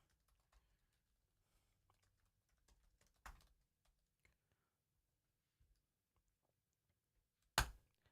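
Soft, sparse computer keyboard typing, scattered light key clicks with two sharper louder clacks, in a quiet room without talk.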